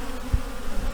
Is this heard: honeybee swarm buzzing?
yes